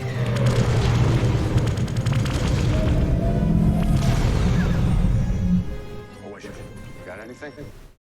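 Starship weapons fire and explosions from a Star Trek game: loud, dense booming and crashing rumble for several seconds, then fading to quieter electronic tones at the end.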